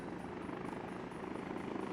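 Helicopter in the city-building game Workers and Resources, a steady whirring rotor drone heard faintly and continuously in the background with no talk.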